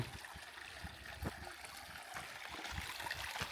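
River water flowing in rural countryside near Gondar, a faint steady rush with small gurgles and trickles, no voices.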